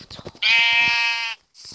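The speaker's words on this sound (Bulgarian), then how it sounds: "Ето те овца." A Minecraft sheep gives one loud, drawn-out bleat lasting about a second, close and clear, with faint short sounds just before and after.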